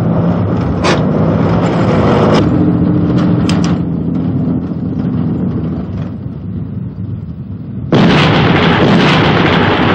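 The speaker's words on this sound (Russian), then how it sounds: "Фрагмент из художественного фильма иллюстрирует действия экипажа танка ПТ-76 во время учебных стрельб." A PT-76 amphibious tank fires its gun in a live-fire training exercise in a film excerpt: loud sharp blasts over a steady engine roar, with a big boom near the end.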